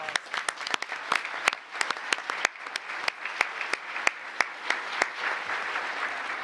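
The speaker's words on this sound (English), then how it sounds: "Let's give them one more round of applause." Audience applause after a performance: a crowd claps steadily, with sharp individual claps standing out over a dense wash of hands, fairly loud and sustained without speech.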